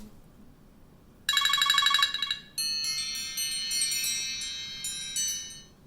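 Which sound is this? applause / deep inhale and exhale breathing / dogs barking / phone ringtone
phone ringtone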